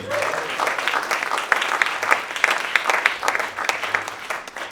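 A tribute concert crowd gives a round of applause for the guitarist, steady massed clapping with a few distinct louder claps standing out and faint chatter beneath.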